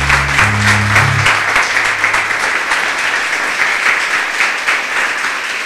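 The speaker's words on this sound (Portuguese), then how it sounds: "Palmas para o nosso Deus." A church congregation claps steadily in sustained applause, dense and even throughout, with a brief low musical tone at the start.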